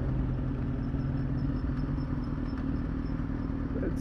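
A motorcycle with a loud aftermarket exhaust rumbles steadily through a turn at moderate revs, a low continuous drone with faint clatter and wind, close and without talk.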